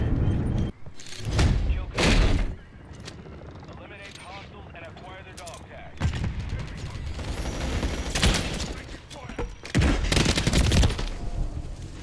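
Bursts of automatic gunfire in a Modern Warfare match, several loud volleys separated by quieter stretches of mechanical clatter, with someone talking over the action.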